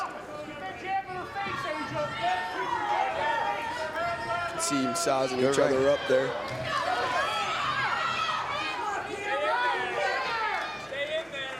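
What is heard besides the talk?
boxing event crowd cheering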